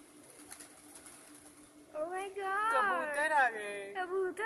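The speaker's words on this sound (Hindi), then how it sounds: "कबूतर आ गए।" A pigeon coos in a series of soft, warbling calls up close, after a quiet stretch with faint background noise.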